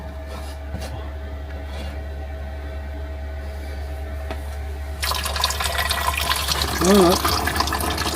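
Water starts running from a machine powered by a converter in the luggage hold of a vehicle, a steady close pour over a constant low electrical hum, with a short spoken word near the end.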